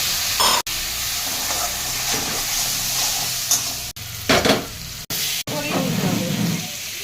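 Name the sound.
sautéing spices with salt, turmeric, sugar and water in a pan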